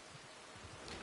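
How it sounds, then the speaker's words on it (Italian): Steady rain falls in a brief, faint, even hiss of broadband patter with no voices over it. "Piove, piove!"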